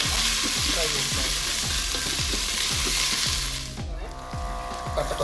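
Ginger garlic paste fries in a pan with a loud, dense, continuous sizzle over a steady rhythmic low knocking. The sizzle briefly drops in level near the end before rising again, and there is no talk.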